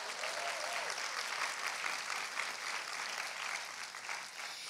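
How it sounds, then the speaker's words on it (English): Audience applause at a women's church conference session, a dense steady wash of clapping lasting throughout at even loudness, filling the room without talk on top. "So can we give Cornerstone Church a round of applause?"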